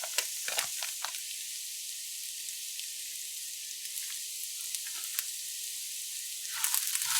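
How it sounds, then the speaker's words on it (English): Fried rice sizzles steadily in a hot pan as spice powder is stirred in, a dense close crackle with occasional scrape and tap accents and no talking. "Give that a good mix, of course."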